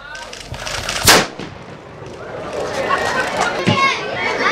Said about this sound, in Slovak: Uši zapchať! Strieľame!